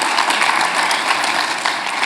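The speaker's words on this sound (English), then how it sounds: "So yes, that deserves an applause." An audience at a Latino and Latina-centered forum session breaks into steady applause, a dense wash of clapping hands that carries on evenly throughout without any voices on top.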